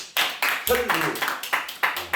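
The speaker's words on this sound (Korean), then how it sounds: "박수 한번 쳐주세요" A group claps in short rhythmic bursts during a church sermon, close and moderately loud, with a voice briefly heard between the claps.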